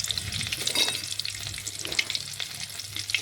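Whole cumin, cinnamon, cardamom and green chillies frying in hot oil for mutton biryani, a close, steady crackling sizzle with sharp pops throughout.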